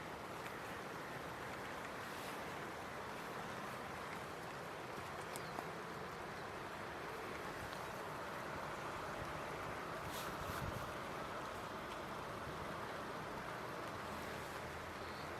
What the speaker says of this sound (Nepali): ललितपुरको यो काठमाडौँबाट आएको खोला हो